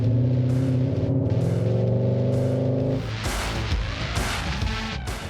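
Skoda Octavia RS 1.4 TSI iV plug-in hybrid engine idling and revving, a steady low hum that shifts into a brighter, broader rev partway through, close and loud with no talk.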